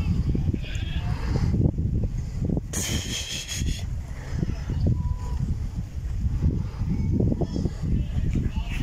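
Goats bleat and cry in overlapping calls over a steady outdoor rumble at a plantation stable in Panabo, Philippines, with wind buffeting the microphone now and then.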